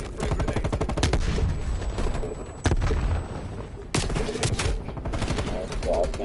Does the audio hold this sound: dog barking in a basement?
no